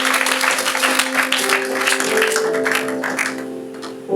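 A church congregation at a conference applauds in a dense, steady wash of clapping, with a sustained tonal backing underneath, no voices over it.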